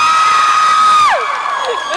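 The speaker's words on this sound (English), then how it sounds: "Had a feeling I might get the screams." An audience at the Otakon 2009 anime convention breaks into loud, sustained high-pitched screaming and cheering during a Q&A panel, the shrill wail holding strong and then sliding downward and thinning out near the end.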